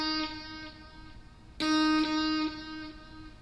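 Guitar notes run through a dotted-eighth delay for an echo, with a sustained tone and then a louder struck note whose repeats ring on clearly, played alone.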